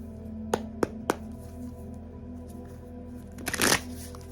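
A deck of oracle cards being shuffled close by: three sharp separate card snaps early, then a quiet pause over a low room hum, and a fuller riffling burst near the end, with no voices.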